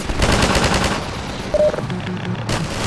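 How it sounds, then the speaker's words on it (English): Rapid automatic gunfire from a gunship in the video game Half-Life 2, loud and dense bursts rattling continuously with a few sharper impacts, no talk. "There are 2 gunships."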